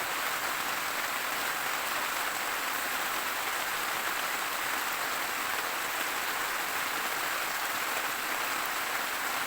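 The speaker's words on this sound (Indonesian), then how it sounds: "tambah mendekati malam, tambah deras hujannya" Heavy rain pours down steadily on a tent during an evening camp at the foot of Mount Rinjani, a dense, unbroken hiss of drops close around, with no voices.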